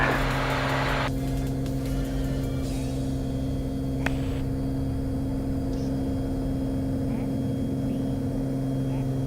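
Light aircraft engine droning steadily at takeoff power during the takeoff roll, a loud continuous hum with strong low harmonics, heard from inside the cockpit with brief radio or voice bits early on.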